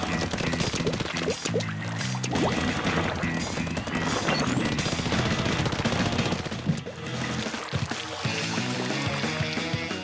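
Rapid gunfire from a slow, powerful gatling-type ink weapon in the Splatoon video game, a dense sustained barrage of bursts layered over loud game music for the whole stretch.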